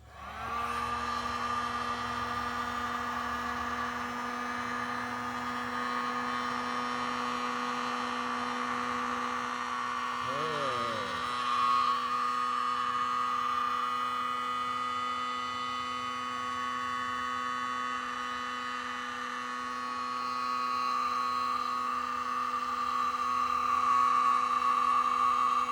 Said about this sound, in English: Back with the heat gun.